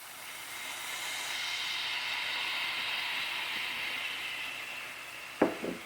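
White cooking wine hits a hot pan with a steady broad sizzling hiss that swells and holds for several seconds, then a short knock of a utensil near the end, with no talk.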